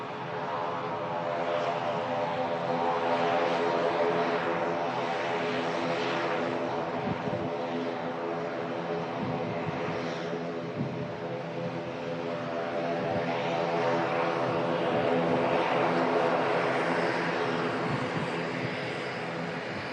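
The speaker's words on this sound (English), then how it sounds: "The prop coming in from Dublin there," A propeller airliner inbound from Dublin drones steadily, its turboprop hum holding a layered engine tone that swells and eases as the aircraft approaches, with no one talking.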